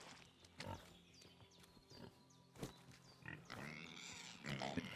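Pig grunts and snorts in the video game Kingdom Come: Deliverance 2 repeat in short bursts over a busy background of chirps and clicks, with no talking.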